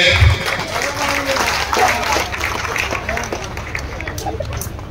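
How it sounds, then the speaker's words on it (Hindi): Audience applauding at a stage inauguration and welcome ceremony in a village, steady broadband clapping throughout with crowd murmur and voices mixed in, fairly loud and continuous. "जोरदार करताली देवे"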